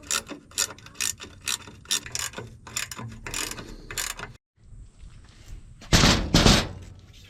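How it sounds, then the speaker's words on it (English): Bracket bolts on a skid steer are tightened with rapid bursts of ratchet-like metallic clicking, several short rhythmic runs, a brief pause, then a louder burst near the end, with no talking. "Now we need to tighten up these little bracket bolts."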